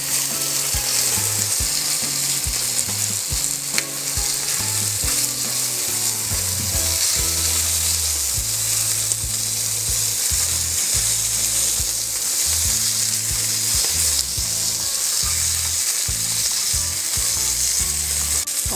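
Steamed chicken inasal basted with chicken oil crackling over the grill, a loud, dense and unbroken sizzle with popping fat that stays steady throughout, no one speaking.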